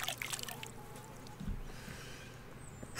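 Brief splashing and trickling water near the start as a character washes in Kingdom Come: Deliverance, then a soft pour and dribble fading into quiet background ambience.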